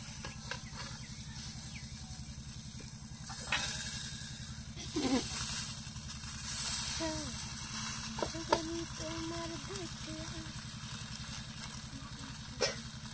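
Fish paturi, fish wrapped in leaves, frying in a pan on the stove, giving a steady sizzle throughout with a few louder clatters and bumps of cookware as the parcels are turned back into the pan.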